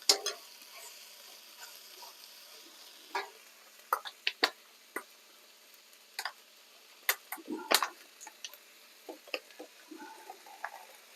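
Spring onions in a simple stir fry, with a faint soft sizzle beneath sharp, scattered ticks and taps of a utensil against the pan.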